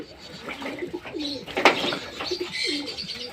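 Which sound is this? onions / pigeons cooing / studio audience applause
pigeons cooing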